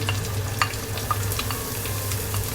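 Ginger and garlic sizzle and fry in a pan while being stirred, a steady close crackle with small scraping clicks, no talking.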